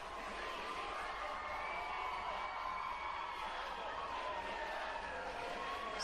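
A home crowd roars steadily in celebration after a gymnastics routine at a World Cup event final in Baku, a dense continuous cheer with scattered whoops filling the arena throughout.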